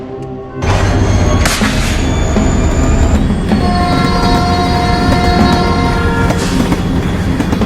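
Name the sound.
train departing in a video game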